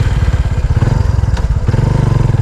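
A motorcycle engine idles close by with a loud, rapid, pulsing thump, steady and chugging throughout, with a brief clatter in the middle.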